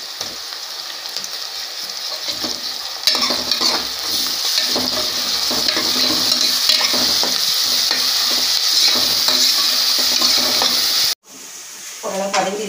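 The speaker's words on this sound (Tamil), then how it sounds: "ஃப்ரெண்ட்ஸ் வெங்காயம் பார்த்தீங்கன்னா ஓரளவு வதங்கிருச்சு" Onions frying with ground masala in a pan hiss in a steady, loud sizzle while a spoon stirs them in repeated scrapes, the frying briefly cutting out near the end before resuming.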